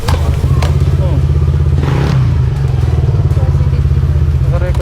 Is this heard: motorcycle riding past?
yes